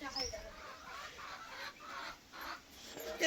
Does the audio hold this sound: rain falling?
no